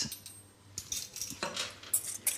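Eggs and vanilla being whisked into a brownie mixture in a bowl, a faint series of light metallic clinks and scrapes of the whisk coming in quick irregular bursts, with no talking.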